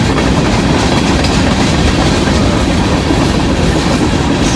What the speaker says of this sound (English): Got us a bonus train here.